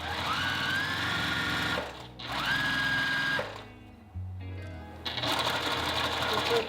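A sewing machine runs steadily in short bursts, stitching a seam with a 1.5 cm allowance at normal stitch length, pausing briefly between runs, close and fairly loud.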